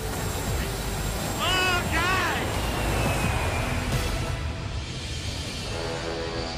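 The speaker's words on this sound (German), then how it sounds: "Egal ob im oder unter dem Flugzeug, eine Landung am Princess Juliana Airport vergisst so schnell niemand." A fixed-wing airliner landing at Princess Juliana Airport rumbles loudly and steadily overhead, while voices and a faint cat-like wavering cry rise briefly over the engine roar.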